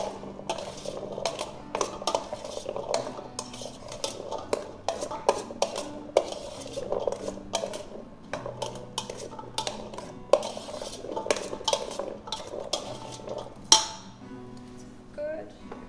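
Chickpeas stirred in a pan to coat them, giving a steady run of soft scraping and light clinks of a utensil against cookware, close by and moderately loud, with a louder clatter near the end.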